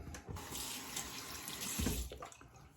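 Water runs steadily from a tap, splashing quietly into a sink with a constant hiss.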